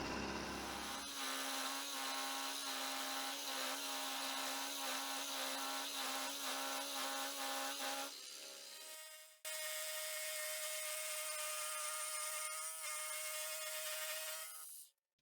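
A small metal lathe faces a steel hammer head with a 3 mm cut, giving a steady whining, tonal grind that shifts pitch midway, breaks off briefly, then resumes until it stops.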